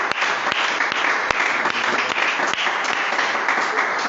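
Church congregation applauding and cheering together in praise, a dense, steady wash of clapping that fills the whole stretch, loud and close with a few sharper claps standing out.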